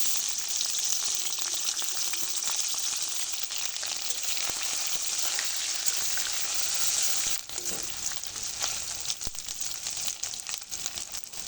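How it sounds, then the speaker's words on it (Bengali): Dried loitta fish (Bombay duck) frying in hot oil, a loud, steady crackling sizzle that runs unbroken throughout, with a brief dip in intensity partway through and no voices. "এবার আমি শুটকি মাছগুলো ভেজে নেব।"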